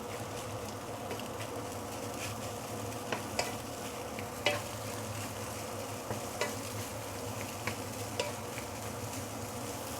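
Pre-cooked rice stir-fried with egg for crab fried rice, a low steady sizzle with occasional sharp clinks of a utensil against the pan, fairly quiet and without speech.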